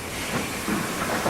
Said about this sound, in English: Pinion wheels under the steam loco and carriages bite into the notched rack rail and stop the